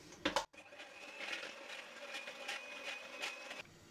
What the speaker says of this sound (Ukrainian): збиваємо сметану